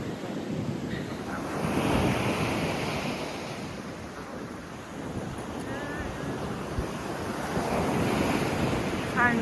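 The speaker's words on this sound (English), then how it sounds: "I think you want to see the beach and the sea." Sea waves break on the beach at Mablethorpe in steady wind, a continuous roaring wash with gusty microphone rumble, surges building near and fading, no talk.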